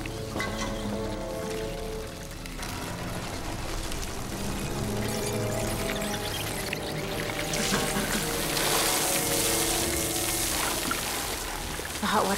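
Continuous pouring and splashing of hot water onto ants in a thriller movie, steady and prominent throughout under a musical score.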